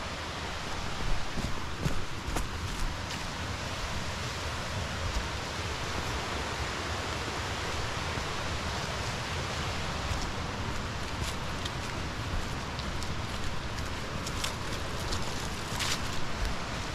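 Steady, broadband rush of a waterfall beside a small trail shelter on the Appalachian Trail in the 100 Mile Wilderness in autumn, a constant close roar with no talk over it.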